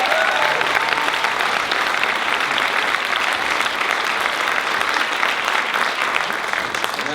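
Sustained, dense applause from an audience at a 48 Hour Film Project awards show, steady and fairly loud throughout with no pauses, a full crowd clapping together.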